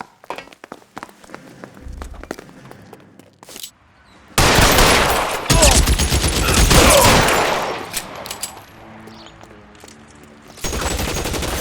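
Gunfire in an L.A. Noire shootout: scattered single shots early, then a dense, loud burst of rapid overlapping fire lasting several seconds, a pause with sparse shots, and another heavy volley at the end.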